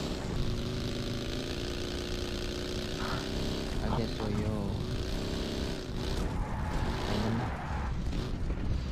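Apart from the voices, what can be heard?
motorcycle engine in PUBG Mobile video game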